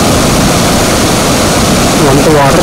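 A rain-swollen stream rushes at Seethapalli waterfalls near Rampachodavaram, making a loud, close, continuous roar of churning water.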